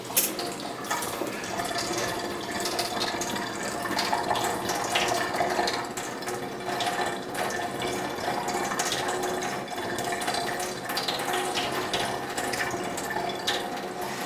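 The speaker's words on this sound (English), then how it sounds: "Just gently pour water." Water pours steadily into a Big Berkey gravity water filter, a continuous close splashing and trickling flow that runs without a break, with no one talking.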